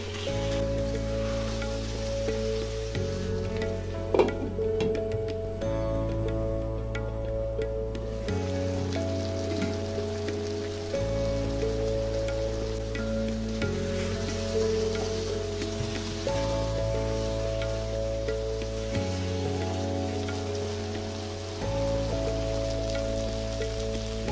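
Country chicken sizzling with spices in a pan on the stove, a steady soft crackle and hiss throughout, with background music playing and no talking.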